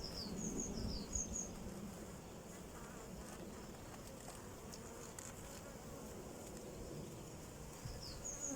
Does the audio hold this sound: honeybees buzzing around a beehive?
yes